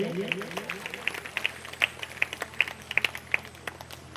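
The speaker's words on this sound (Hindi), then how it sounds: "इनके लिए जोरदार तालियों के साथ स्वागत करिए" Scattered hand claps greet a guest being garlanded at a Shrimad Bhagwat Katha religious gathering, light and uneven claps over a steady background hum and faint talk.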